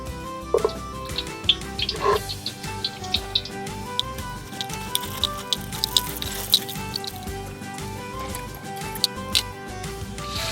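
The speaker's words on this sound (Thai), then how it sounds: "มะเขือยาวสักแพรชุบแป้งทอดนะครับ" Battered long eggplant deep-frying in oil for a Thai home-cooked meal gives a steady, close crackling sizzle with scattered sharp pops, and a faint tonal hum sits underneath throughout.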